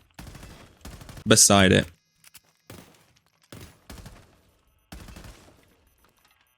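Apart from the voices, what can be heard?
gunfire shooting wood in video game Rainbow Six Siege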